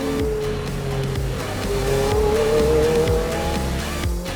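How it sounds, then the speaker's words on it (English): A Ferrari race car on a racing circuit accelerates hard, its engine note climbing steadily with the turbo spooling up, loud and close, with a touch of tire noise. "Especially when the turbo starts spooling up, straighten the wheel and it kicks you in the back of your seat."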